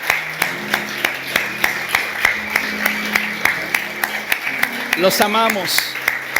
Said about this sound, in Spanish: Voy a pedir a toda la iglesia que les dé un fuerte aplauso a estos valientes.